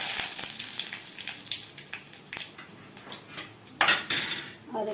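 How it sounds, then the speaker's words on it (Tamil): Fenugreek, mustard seeds, urad dal and curry leaves temper in a hot pan with a light crackling sizzle, broken by clattering metal spoon strikes and scrapes against the cookware. "வெந்தயமும் ரெண்டு கடுகு உளுந்து போட்டுட்டு இந்த கருவேப்பிலை"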